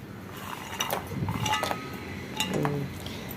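Spoon stirring aval payasam with roasted cashews in a metal pot, a few scattered scrapes and light clinks against the pot at close range, with quiet gaps between strokes.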